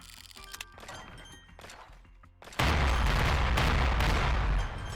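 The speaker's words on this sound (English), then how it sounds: "this dragon is like bombing the area" A dragon bombing the area in the video game Apocalypse Party: a sudden loud, dense barrage of explosive blasts erupts and keeps pounding continuously after quieter scattered game noises.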